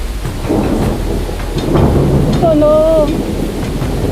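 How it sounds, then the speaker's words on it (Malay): Steady heavy rain with rumbling thunder, loud and continuous, a brief wavering tone rising above it near the end. "hujan terus menyirami bumi"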